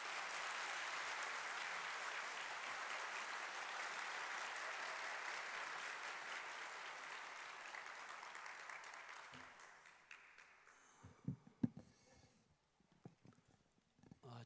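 A church congregation at an Easter Sunday first-anniversary service claps warmly to welcome a pastor, sustained dense applause that gradually thins and dies away into a few scattered claps and shuffling.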